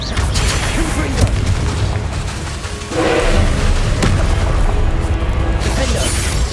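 A Confringo blasting curse explosion in the video game Hogwarts Legacy, with booming thuds and bursts over a dense, loud battle backdrop.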